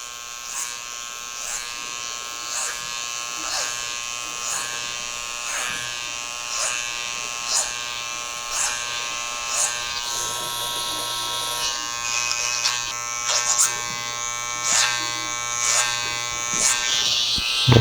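Electric hair clippers buzz steadily at close range while blending hair short with a comb for a taper, the hum rising and dipping in brief pulses as the blade passes through hair.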